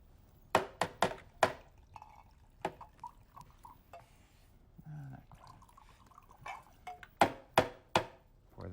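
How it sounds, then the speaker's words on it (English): Myers dark rum poured into a blender for a double-batch blended summer drink, heard as a series of sharp splashy knocks and glugs in two bursts, with a softer trickle in between, close and clear. "Pour that in there."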